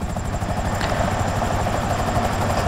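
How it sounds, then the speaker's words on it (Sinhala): A helicopter in the video game GTA 5 flies nearby, its rotor giving a steady, loud chopping drone that stays constant throughout with no talk over it. "මෙන්න තව හෙලිකොප්ටර් එකක් මෙතනින් එනවා."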